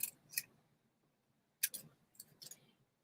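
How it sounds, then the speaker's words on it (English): Scissors snipping a strip of paper, a few sharp, quiet cuts heard close up: two at the start, then a cluster of three or four after a pause, with near silence between. "So I'm going to take this and cut a strip."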